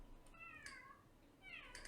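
A Sims 3 video game cat meows twice, in short rising-and-falling cries separated by a pause, faint over a low background hum.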